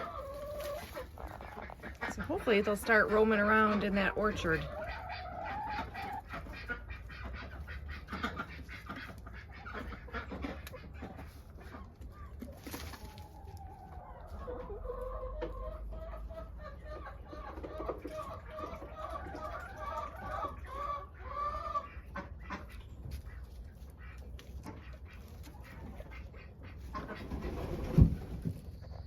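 Chickens cluck softly around a coop beside an orchard, near and fairly quiet, with a louder stretch of calls early on. A person talks over them in places.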